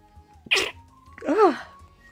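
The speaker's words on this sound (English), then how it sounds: "I'm still going to sneeze." A character in the farming video game Story of Seasons: Friends of Mineral Town sneezes: a sharp, breathy burst followed by a longer voiced, wavering exhale, set against quiet, steady game music.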